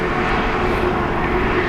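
An Aer Lingus airliner, callsign Shamrock 77 Charlie, rolls for takeoff on the runway at Dublin Airport, its jet engines giving a steady, sustained roar at moderate distance with no voices.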